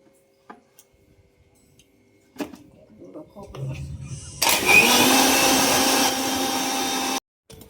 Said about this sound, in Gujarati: હવે આપણે હે ને આ મિક્સરમાં પીસી નાખીએ